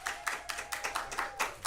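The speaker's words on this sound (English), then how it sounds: "can we get another round of applause for him?" A small audience claps for Mr. Freddie, a performer who played gospel and rhythm and blues at a second-anniversary show. The clapping is close and rhythmic, with roughly ten distinct bursts of hands over a short stretch.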